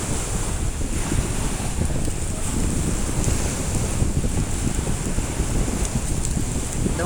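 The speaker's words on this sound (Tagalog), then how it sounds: "Maririnig ang hampas ng alon." Steady roar of ocean surf breaking on the shore, with wind buffeting the microphone throughout; no voices.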